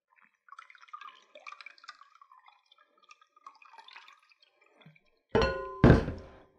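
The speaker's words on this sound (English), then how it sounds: "I'm just going to rinse this 3 or 4 times to get all that buttermilk out of there" Faint drips and trickles of water are followed by two louder sloshing thunks as homemade butter made in a food processor is rinsed in a bowl of water to clear out the buttermilk.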